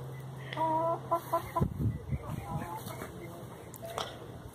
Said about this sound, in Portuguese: Olha o tanto de galinha que tem aqui.